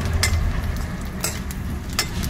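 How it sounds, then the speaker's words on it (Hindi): Chaurori, a lentil snack, fries in a pan of hot oil with a steady sizzle, with a few sharp scrapes and clicks from stirring close by. "अब चरौरी डालने जा रहे हैं इसमें, अब चरौरी भूजेंगे"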